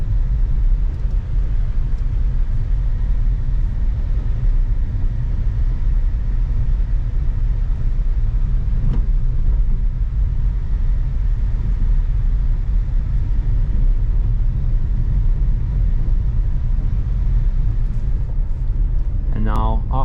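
Inside a Dacia Duster 4x4 crawling over light off-road terrain, a steady low engine and road rumble runs throughout with faint knocks and rattles, while a driver talks over it.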